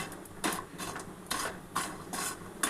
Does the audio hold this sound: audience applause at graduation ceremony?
no